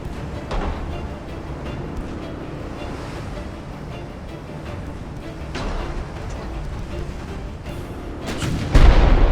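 Naval battle in Ultimate Admiral Dreadnoughts, a torpedo launch and gunfire against a constant roar of ocean waves and wind, with a few muffled booms and a heavier blast near the end, no talking.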